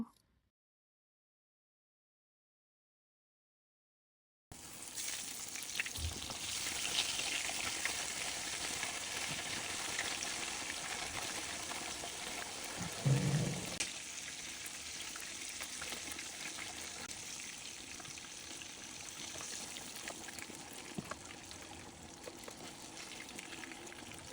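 Fish (a local freshwater fish) frying in hot oil in a wok, a steady broadband sizzle that starts abruptly after a few seconds of silence and continues evenly, with a brief low clatter partway through.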